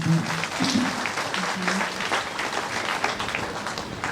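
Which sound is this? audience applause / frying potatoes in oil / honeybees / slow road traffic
audience applause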